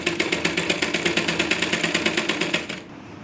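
Rapid, even mechanical stitching of a sewing machine working on a blouse, a steady rattling rhythm running close and loud for nearly three seconds before stopping abruptly.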